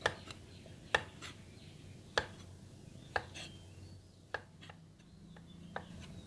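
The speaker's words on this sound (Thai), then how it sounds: "อย่างนี้แล้วก็มาหั่น หั่นฉลับฉลับไปนะครับ" A knife chops through bamboo shoots for a Thai stir-fry, giving sharp, separate cuts against a board at an uneven pace of roughly one per second, close and clear over a quiet kitchen background with no talking.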